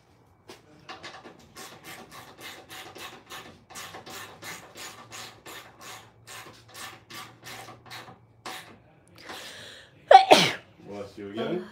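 A loud sneeze bursts out near the end, following a long stretch of steady rhythmic rasping or filing strokes in a garage where a Toyota Supra is being cut up, with a second smaller burst right after.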